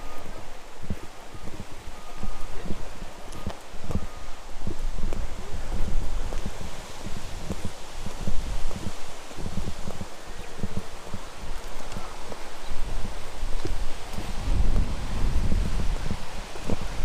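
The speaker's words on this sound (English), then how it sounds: "this is the windiest path ever" Strong wind buffeting a microphone on an exposed path by a viewing hill in Michigan, a loud, continuous roaring rumble with gusty surges and rustling throughout.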